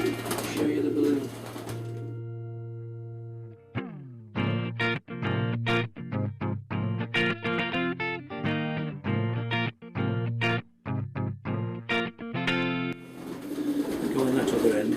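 Racing pigeons in a loft coo in repeated throaty, pulsing calls through the middle of the clip. Some calls overlap and they are close and fairly loud, with people talking briefly at the start and end.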